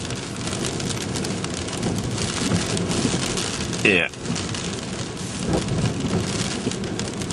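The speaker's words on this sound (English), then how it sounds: "Bit hard to see through the rain on the window," Steady rain hammers on a car window, a dense, constant patter close to the listener, broken by a brief sharp clunk midway, with a short spoken word.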